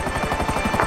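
Helicopter rotor in the GTA V Online video game, a steady loud chopping throb that fills the whole moment with no voices.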